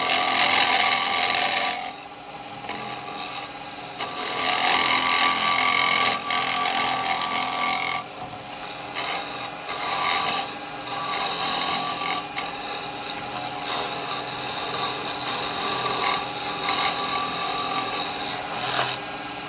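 A carbide chisel cuts a natural edge bowl from firewood on a wood lathe, producing a continuous scraping, rasping hiss that swells and eases in long passes over the spinning wood, with no talk.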